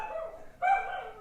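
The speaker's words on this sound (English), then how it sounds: "It's my little dog there. Doesn't like airplanes." A small dog lets out a couple of short, sharp barks, fairly close but modest in volume, with a brief yip-like rise in the middle.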